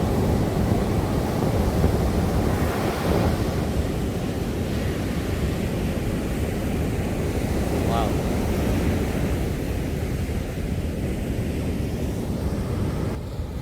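Steady roar of large ocean surf at a beach near Sabang, Indonesia, with broad rushing noise and wind buffeting the microphone throughout; waves sound heavy and continuous, with no distinct breaks.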